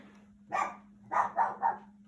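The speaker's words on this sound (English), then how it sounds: "don't mind the dog. She likes to bark at people that walk by." A pet dog barking at people walking past the house, four sharp close barks, one then a quick run of three, over a steady low hum.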